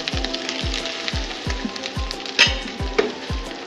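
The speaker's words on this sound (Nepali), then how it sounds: "मसला फ्राई गर्न गइरहेको छु।" Masala fries in a pan for a vegetarian curry with a steady, close sizzle, punctuated by regular soft knocks and a few brief clinks, with no talking.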